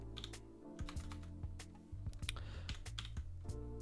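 Steady bursts of keystrokes on a computer keyboard while writing code for an ESP controller, close and clear, with uneven rhythm and short pauses between runs.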